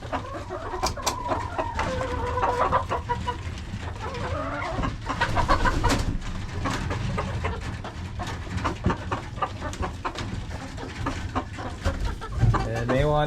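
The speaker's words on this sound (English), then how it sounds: "These are the laying chickens." Laying hens in a homestead chicken shed cluck and call steadily, a busy overlapping chorus of several birds close by, with occasional louder squawks.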